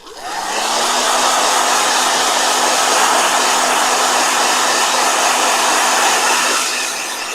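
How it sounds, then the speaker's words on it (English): A blow dryer runs to dry a gouache painting, a loud, steady close-up whoosh that starts quickly, holds for about seven seconds, then fades slightly at the end. "All right, blow dryer."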